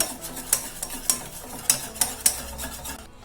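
A spoon stirs mashed Robusta banana into milk for banana pudding, making close, repeated scraping and swishing strokes against the pan in an uneven rhythm.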